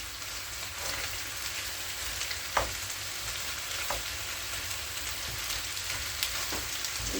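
Pork searing in a pan for a brown stew, a steady close sizzle and crackle with a few faint clicks as the meat is turned, no talking.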